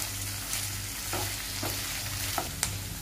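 Potatoes and onions fry in a pan over a medium flame, giving a steady close sizzle with a few soft scrapes of stirring and no talking.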